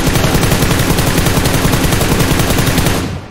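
Rapid automatic gunfire in a video game benchmark run on an RX-series graphics card, a dense, steady burst of shots at a fast even rhythm, loud and close, cutting off abruptly near the end.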